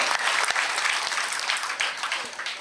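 An audience applauds a grandmother at a Tamil stage event. Dense, steady clapping fills the whole moment at close range, with a few sharper individual claps standing out.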